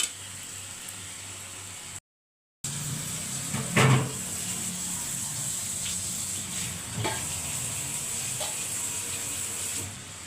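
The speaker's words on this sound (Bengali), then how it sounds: "এটা ঢাকা দিয়ে সেদ্ধ হতে থাক" Snake gourd with coconut steams and sizzles under a lid in a pan, a steady close hiss that runs nearly unbroken, with a brief cut partway and a few soft clatters and scrapes.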